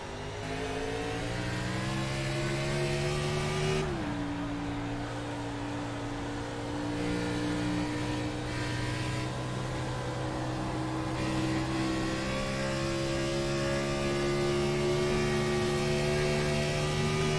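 A race car engine heard from onboard, holding a steady drone, then lifting and easing as the throttle is worked into turn one, with no voices.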